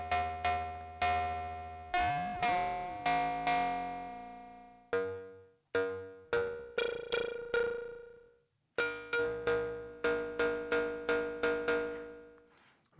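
Make Noise 0-Coast synthesizer with its slope self-cycling, playing a sequence of sharp plucked, bell-like tones with noisy metallic overtones, each note decaying quickly in a steady repeating rhythm, with short gaps between phrases and no talk.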